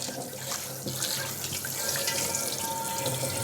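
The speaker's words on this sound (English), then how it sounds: "Rinse it well." Tap water runs steadily over a cast iron pan being rinsed in a sink, a constant close hiss and splash with no talking.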